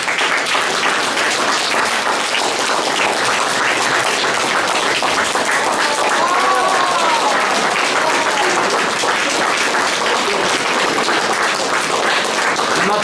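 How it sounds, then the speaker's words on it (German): A crowd applauds steadily and loudly, with dense continuous clapping and a few cheers, at the unveiling of a new car trailer for a shanty choir at the Auto Mattern dealership in Herford. "Beifall!"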